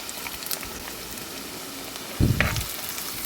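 Sliced onion, ginger and garlic sizzle steadily in a clay pot, a low continuous frying hiss with a louder burst of sizzling as the pan is stirred near the end.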